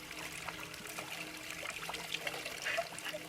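Soft, steady trickle of cold spring water dribbling from rock and splashing nearby in the Swiss Alps at Schwägalp, Säntis, quiet and continuous.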